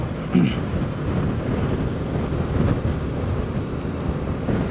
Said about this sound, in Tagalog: Malakas ang hangin, no? Headwind. Headwind ngayon dito.